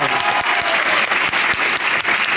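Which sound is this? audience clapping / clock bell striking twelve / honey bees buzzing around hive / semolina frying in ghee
audience clapping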